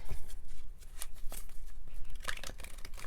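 A deck of tarot cards is shuffled close by in quick, uneven bursts of papery riffling and soft slaps, with no talking.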